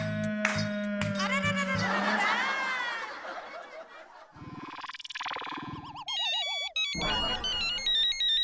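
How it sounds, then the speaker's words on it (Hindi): An electronic phone ringtone plays a looping melodic tune, loud and close, after a stretch of comic musical sounds and laughter. "इस बॉस को भी अभी फोन करना था।"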